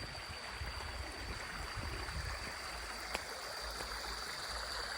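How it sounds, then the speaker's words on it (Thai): A small forest waterfall along a wet trail in Thailand, heard as a steady broadband rush of flowing water, moderately loud and continuous with no talking. "อันนี้คือน้ำตกย่อยๆยังไม่ได้เจอน้ำตกใหญ่"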